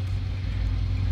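A 2014 Audi A4 with a 2.0 turbo engine idles steadily after a lean-running misfire condition, giving a low, even rumble that holds close and constant throughout with no voices over it.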